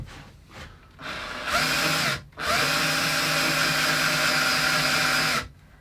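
A power drill bores into a wooden guitar body, revving up in two stages, cutting out briefly, then holding a steady high whine for several seconds before stopping; close and loud.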